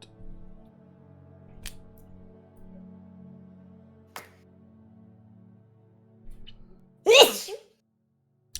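A single sharp sneeze near the end, close and loud, after a quiet stretch with a couple of faint clicks.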